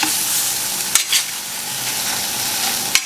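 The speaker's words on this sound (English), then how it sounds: "I'm going to go ahead and mash it a little bit with my spatula." A spatula mashes onions in a frying pan, scraping and pressing against the pan over a steady loud sizzle, with a couple of sharp taps of the spatula.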